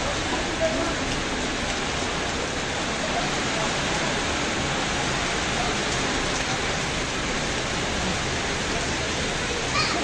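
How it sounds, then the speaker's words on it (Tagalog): Heavy rain pours down in a steady, dense, loud hiss that fills the whole stretch without pause. "Ang lakas ng ulan."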